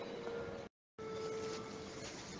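A Trenitalia regional train from Bolzano to Rovereto arrives at platform 2 of Trento station, a continuous rolling rumble with a steady squealing tone, broken once by a brief gap.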